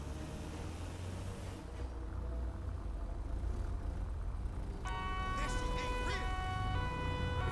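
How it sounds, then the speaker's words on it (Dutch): Police car sirens wail in GTA 5 under a steady roar of engine and road noise, the siren tones rising clearly in the later part. "Ik snap ook niet dat ze de sirenes aan doen"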